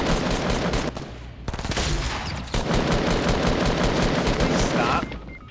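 Fortnite match gunfire: dense, continuous automatic fire and bursts that keep going almost without a break, loud and up close, with game sounds mixed in behind.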